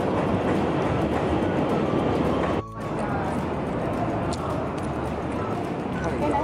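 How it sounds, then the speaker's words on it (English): A Chicago railway train gives a loud, continuous rumbling roar with rhythmic clatter, briefly dropping away for a moment before resuming just as heavily. "Chicago Railway. So cool."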